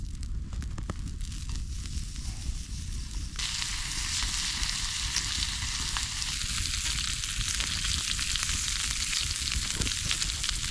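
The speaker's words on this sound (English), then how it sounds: "I'm not one who can wait for the rest of the bacon to be cooked" Bacon sizzles and crackles steadily in a pan set over an outdoor campfire on a snowy winter camping trip, the frying loud and continuous throughout, with no talk.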